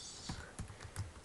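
Keys tap on a computer keyboard, a few quiet, evenly spaced clicks close by with no other sound.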